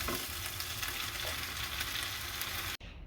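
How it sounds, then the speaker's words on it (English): A stir fry of chokos and spinach sizzles loudly in a pan, a dense steady crackle close by that stops abruptly near the end, followed by a quieter hiss. "And there we have it, all done. Beautiful stir fry."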